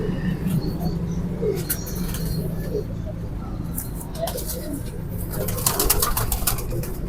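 Sialkoti pigeons coo softly in a loft, low murmuring calls repeating through the clip, with wing flutters, scuffles and other bird noises around them.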